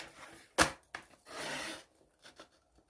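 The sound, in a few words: cutting paper up to the fold line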